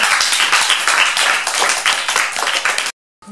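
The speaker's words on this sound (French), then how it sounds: "Applaudissez déjà pour vous" A group of children at an orphanage in Japoma, Cameroon, clap their hands together in a lively burst, close and loud, then stop abruptly into silence, with a brief sound at the very end.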